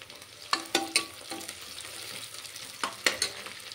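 Slit green chillies and fresh curry leaves frying in hot oil for chicken curry, a faint steady sizzle punctuated by several quick spatter pops and stirring taps, close and without talk.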